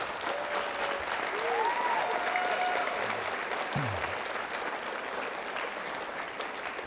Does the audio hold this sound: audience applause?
yes